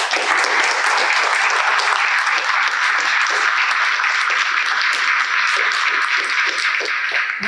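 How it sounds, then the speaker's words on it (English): Sustained audience applause fills a 2023 Anchorage press conference on moving homeless residents into stable housing, a dense, even clapping that holds steady for several seconds. "Please give them a round of applause for that work."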